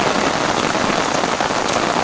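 Steady rain patters on a tarp in a dense, even wash of drops, close and constant with no voices.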